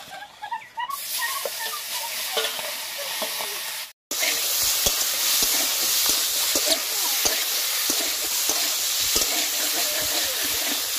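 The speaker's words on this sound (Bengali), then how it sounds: "তেল গরম হয়ে গেছে, এবার চিংড়ি মাছটা ভেজে নেব।" Prawns sizzling in hot oil in a wok, a steady broadband frying hiss with crackles and spits, interrupted by a brief silence before the sizzle resumes louder and continues without talk.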